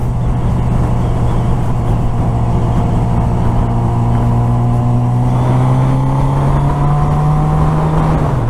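A 1000cc motorcycle engine runs loud and close, its steady throbbing drone rising gradually in pitch over several seconds as it is revved.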